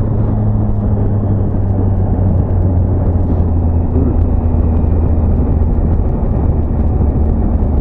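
A car drives in race mode with a loud, steady engine and road rumble filling the cabin, a constant drone with no pauses.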